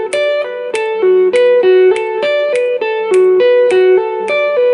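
Electric guitar playing a repeating riff in seven, the same plucked-note pattern cycling steadily with clear sharp attacks, loud and alone without any talking.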